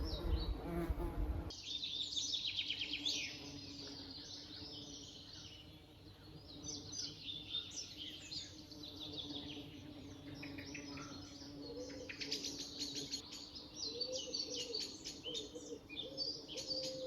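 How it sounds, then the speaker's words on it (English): A blackbird sings in a garden, bright varied phrases repeating over a dense background of insect buzzing and other bird chirps, moderately near and steady throughout. "The birds are singing."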